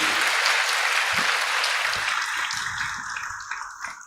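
An indoor audience at a spiritual gathering claps for a singer. The applause is dense and continuous from the start, then thins and fades toward the end, with no talk over it.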